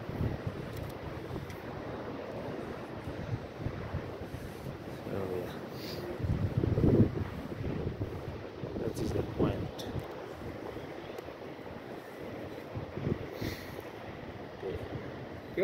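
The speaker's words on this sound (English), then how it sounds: "but it's windy" Steady wind rumbling and buffeting outdoors on the hilltop by the Cape Point lighthouse, with low gusty noise throughout and occasional louder blasts against the microphone.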